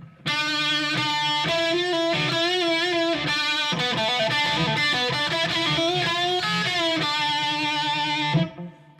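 Distorted electric guitar, a 1978 Gibson Les Paul Deluxe on the bridge pickup, with a bright, biting tone playing a continuous lead line with bends and quick runs, loud and close, ending in a final strum.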